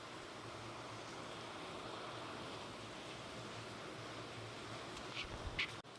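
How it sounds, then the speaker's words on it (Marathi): Steady, broad hiss of heavy rain pouring outside, constant throughout, with a few faint knocks near the end. "बाहेर खूप पाऊस चालू आहे म्हणून असा आवाज येत आहे पाण्याचा।"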